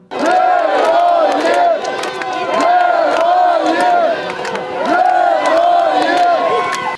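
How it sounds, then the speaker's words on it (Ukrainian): A crowd welcomes returning soldiers of the 5th Prykarpattia battalion with loud, rhythmic chanted cheers that rise and fall in repeated waves, close and continuous. "Бійців 5-го батальйону Прикарпаття зустрічають оплесками та теплими обіймами."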